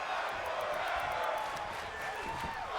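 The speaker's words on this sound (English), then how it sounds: "You hear the crowd showing their appreciation for Aiden's resiliency" Indoor wrestling crowd at a TCWC Tussle show cheering and clapping, a sustained roar of voices with scattered claps, fairly loud and close, under a commentator's voice.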